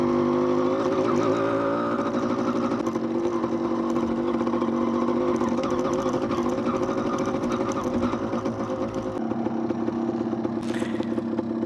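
A 1993 Yamaha DT175 two-stroke motorcycle in the Australian bush, its engine buzzing steadily and loudly up close with a raspy, slightly varying pitch and some rattling clatter near the end.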